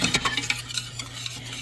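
A whisk stirs Alfredo sauce thickened with a flour and butter roux, minced garlic and aioli seasoning in a pan. Rapid, close, scraping metallic strokes come in quick uneven bursts, with no voices.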